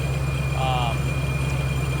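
A car engine fitted with an ESS G3 supercharger idles after a cold start, a steady low rumble with a faint blower whine, as someone speaks over it.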